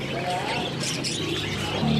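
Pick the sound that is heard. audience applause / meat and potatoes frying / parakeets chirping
parakeets chirping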